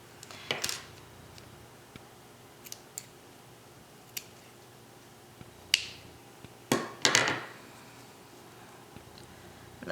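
Scissors snip through folded T-shirt fabric in several sharp, close cuts, some single and some in quick pairs, spaced irregularly over a quiet background with no speech.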